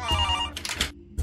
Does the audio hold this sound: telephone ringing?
yes